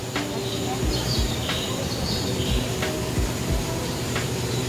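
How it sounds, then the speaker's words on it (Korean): Recorded birdsong plays from speakers inside the tropical greenhouse of Seoul Botanic Park in Magok, Seoul. Faint chirps and calls sit over a steady, dense wash of ambient noise. "새소리 물론 안에 스피커에서 나오는 소리겠죠"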